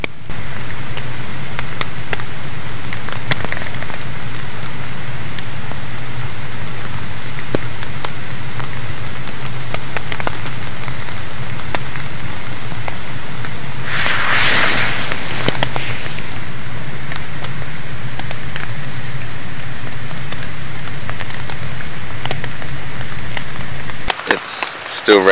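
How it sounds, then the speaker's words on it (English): Steady rain patters on a taut tarp close by at a wild camp in Galloway, Scotland, a continuous even drumming with occasional louder drips, no voices. "it's been raining here since about 3 in the morning"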